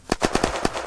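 Rapid gunshots in the video game Unturned, six sharp shots in quick succession within under a second, close and punchy with no talk over them.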